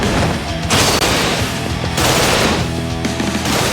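Submachine gun fire in Yakuza 0, loud and sustained across the whole stretch, with dense rapid bursts and a brief break near one second, with no talk over it.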